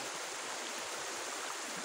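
A river rushes past a campsite at Rio Magdalena in Santa Cruz, Laguna, as a steady, loud broadband roar of flowing water with no pauses and no voices.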